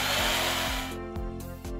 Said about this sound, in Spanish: Ese es el taladro. Es como un destornillador. Saca tornillos, pero de forma automática.